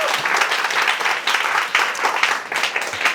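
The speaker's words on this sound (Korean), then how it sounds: "박수 한번 쳐주십시오." A lecture audience of young people gives a short burst of lively clapping that rises and falls in waves over a few seconds, near and fairly loud.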